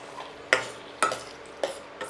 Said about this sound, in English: Whenever you are giving this puree in kadai, you just put up your oven flame or gas oven flame. You just high flame. Just fry 2 to 3 minutes.